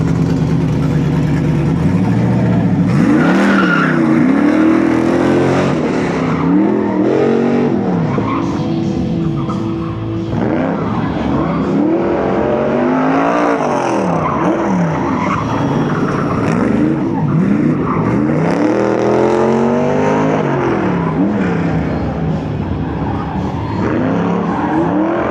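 A Summit Racing Corvette on an autocross victory lap roars loudly and close, its engine revving up and down in repeated swooping surges with squealing, skidding tyres throughout, and an announcer's voice faintly under it.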